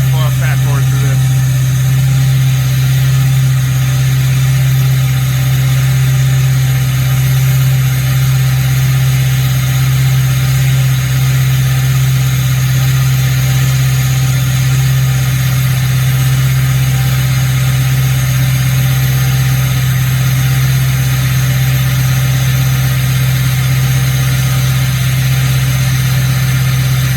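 Ford 6.0 Powerstroke diesel with a 4-inch straight pipe idles after a cold start, a loud, steady low drone with a strong fixed hum and no break in it, recorded close to the exhaust for the whole stretch.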